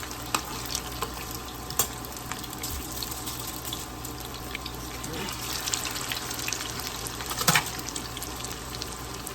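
Salmon patties fry in oil over medium heat, a steady dense sizzle and crackle with occasional clinks and scrapes, close and continuous, with faint talk in the background.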